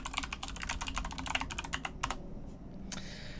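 Rapid, steady typing on a computer keyboard while writing D language code, a close run of clicking keystrokes that pauses briefly and then resumes with a few final taps.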